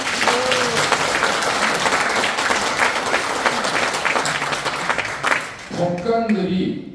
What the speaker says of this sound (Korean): 동의하시면 박수 쳐주십시오.